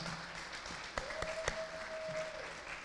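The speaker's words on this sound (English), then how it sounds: "a round of applause for all three of them" Indoor audience applause for event sponsors at a Holocaust survivor talk, a soft, fairly distant patter of clapping with a few sharper individual claps and a brief tonal whine running through the middle.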